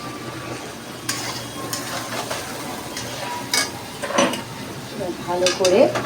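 Masala with Kashmiri chili powder sizzles in a hot pan while being stirred, a steady close fry hiss broken by scraping spoon strokes and light clinks of metal cookware.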